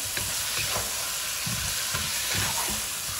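Chicken drumsticks and small potatoes stirred together in a pot of hot oil for a chicken biryani, with a steady sizzle and bursts of low scraping and clattering as they are turned.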